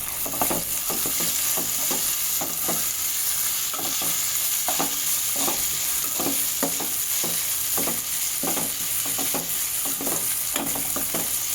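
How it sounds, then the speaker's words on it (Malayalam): A spoon pushes a mango rice mixture around a pan in regular, evenly spaced scraping strokes over a constant bright sizzle, close up and without any voices. "നമുക്കൊന്ന് ഇളക്കി കൊടുക്കാം"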